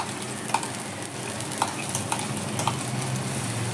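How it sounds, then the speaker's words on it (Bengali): Ginger-garlic paste is stirred into frying onions in a pan for muri ghonto, with a spoon scraping in regular strokes over a steady close sizzle. "আদা রসুন বাটাটা দেওয়ার পর ভালো করে এবার নেড়ে নিচ্ছি একটুখানি।"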